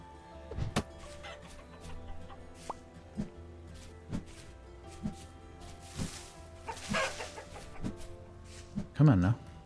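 Chickens clucking in the Vintage Story video game, a scatter of short soft clucks and plops spread across the stretch over a low steady game background, with a louder burst near the end.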